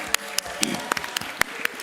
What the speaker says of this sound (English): please give yourself a round of applause for getting here at this hour at 9 a.m.